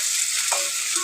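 Chilli chicken being stirred and fried in a pan, with a steady hiss of sizzling oil and the brief scrape of a spatula, close and with no talking.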